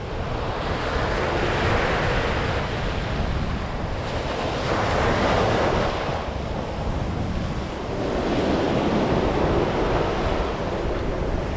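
Steady wind gusts buffet the microphone on a North East Scotland shoreline while surf rolls in behind, the roar swelling and easing in broad waves with no voices.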